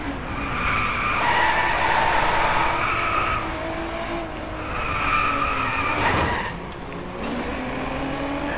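A race car in the DriveClub racing game skids with long, loud tire squeals over a steady engine roar, broken midway by a short crash impact before the engine noise carries on.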